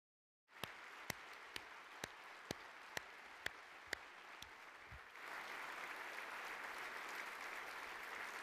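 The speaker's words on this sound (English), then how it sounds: "Rich, stand up and get a huge round of applause with the crew for saving those people's lives." A few distinct claps ring out evenly, then a crowd breaks into sustained applause that continues steadily.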